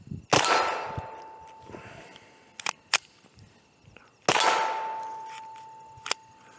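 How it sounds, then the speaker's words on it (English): A Taurus TX22 Gen 2 .22 pistol fitted with a forced-reset trigger fires in an outdoor setting, giving two sharp, loud cracks several seconds apart, each with a ringing decay and a few lighter metallic clicks and clanks in between. "So let's get some rounds through it, get it dirty,"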